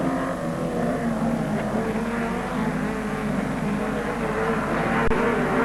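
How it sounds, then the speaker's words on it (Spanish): A 1987 Turismo Carretera race car at a San Luis race passes with a continuous loud engine roar and dense broadband noise, steady throughout and heard alone. "ahí está cruzando el auto Juan Carlos Nesprías, tratando de seguir la marcha de Oscar Aventín"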